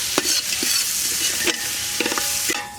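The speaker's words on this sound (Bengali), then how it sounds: "এগুলো এখন তৈলের সাথে কষে নেব" Shrimp paste, garlic paste, turmeric and chili frying in oil, a loud dense sizzle close by, broken by a few scraping stirs of the spoon against the pan.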